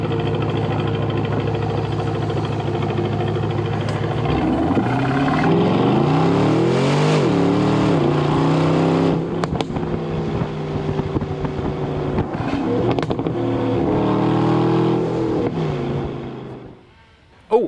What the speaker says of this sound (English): So they've retuned the exhaust and the engine to sound more mellifluous